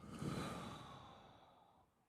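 A slow, deliberate breath during a seated qi gong balance exercise, a soft airy exhale that swells and then gradually fades over about two seconds, close and gentle with no speech.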